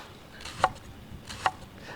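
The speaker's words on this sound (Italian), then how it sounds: "Tagliamo sottili sottili la cipolla" A knife slicing an onion thinly on a board while preparing a Roman risotto alla vignarola, with two crisp, separate cuts about a second apart, close and fairly quiet.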